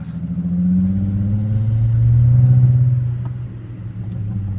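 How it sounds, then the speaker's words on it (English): Manual transmission car pulling away as the clutch is released and gas applied, a steady low engine rumble rising and swelling in the middle before easing slightly, close and alone without talk. "I'm going to let my foot off the clutch a little bit and a little bit on the gas, and I'm going to eventually let off the clutch."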